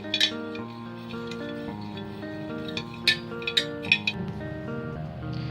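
A spoon stirs sugar into raw milk for panchamrit, with a few light metallic clinks against the vessel, some spaced and some quick, heard over steady background music.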